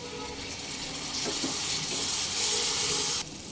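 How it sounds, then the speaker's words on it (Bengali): Hot water splashes into Kashmiri red chilli powder and other spices frying in a pan for a Bengali katla fish muitha curry, giving a steady close sizzling hiss that swells and then cuts off sharply. "দেবো অল্প একটু গরম জল"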